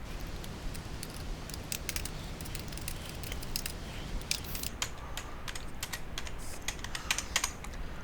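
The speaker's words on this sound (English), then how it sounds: "I'm simply going to type in a title up here" Quick, steady keystrokes on a computer keyboard as a title is typed into a video editor, a continuous light clatter of close, fairly soft key taps with no voices.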